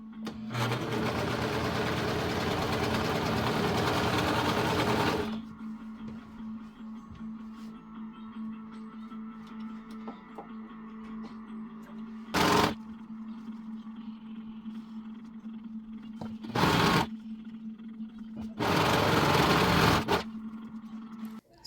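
A sewing machine stitches a denim dress in loud buzzing runs: a long burst at the start, two short bursts in the middle and another near the end, with a steady low hum in the quiet gaps.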